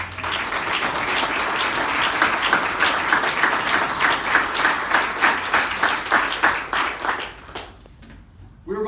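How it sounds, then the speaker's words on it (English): An audience at a Louisiana teacher and principal of the year finalists announcement gives a round of applause, dense, loud clapping with distinct claps that thins out and fades near the end. "please give Dr. Adams another round of applause"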